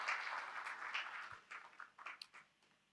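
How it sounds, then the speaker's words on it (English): Applause from a gala dinner audience for faculty staff members being honored, a dense patter of clapping at moderate level that thins toward the end into scattered claps. "Let's give them a round of applause as we will be calling them."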